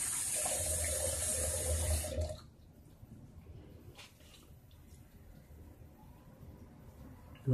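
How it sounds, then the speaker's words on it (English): A towel rinsed under a running bathroom tap, loud splashing water for about two seconds before the flow stops, leaving faint drips and quiet handling noises. "Now, you can rinse the towel out and then wipe it up."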